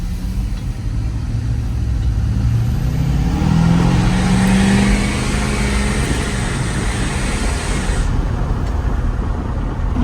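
Duramax pickup truck on a test drive, with steady road and engine noise from inside the cab, a low drone rising slightly mid-drive and continuous tire hum throughout, no talking.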